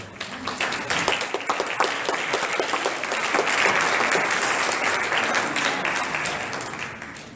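An audience applauds to welcome a speaker at a talk on truth and science, dense steady clapping that swells and holds for several seconds before easing slightly, with no talking over it.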